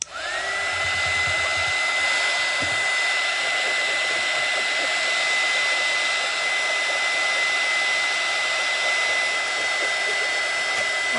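A heat tool blows hot air steadily onto glass resin art, a loud continuous whoosh with a high whine that holds without pause throughout, no voices over it.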